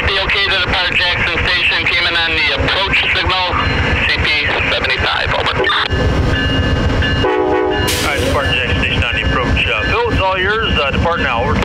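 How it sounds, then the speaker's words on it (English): Amtrak Wolverine train number 350 departs Jackson, heard close and loud with rumbling rail noise, clattering wheels and wind buffeting the microphone, a horn blast near the end, and voices talking over it. "Amtrak number 350, okay to depart Jackson."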